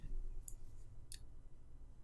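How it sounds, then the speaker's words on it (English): A computer mouse is clicked twice, two short, crisp, faint clicks about half a second apart, over a low background hum. "I'm going to click sign in."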